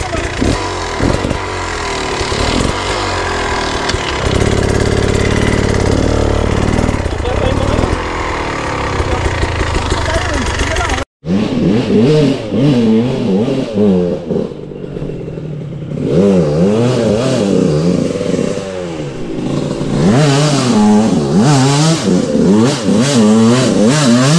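Dirt bike engine kept running and revving hard, loud and close, with a continuous roar rising and falling through repeated throttle blips and one brief cutout midway, while voices talk over it.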